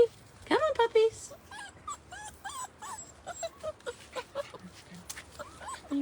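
Puppies whimper and yip in a string of short, high cries spread across the moment, close by, with a person talking softly over them.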